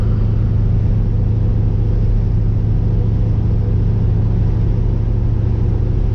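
A classic Camaro cruises through small South Carolina towns, its engine giving a constant low, heavy rumble from inside the car, steady and loud with no talking.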